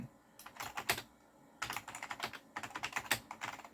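Brisk typing on an Apple M0116 keyboard with rubber dome keys: close, soft, slightly mushy clatter in quick bursts separated by short pauses.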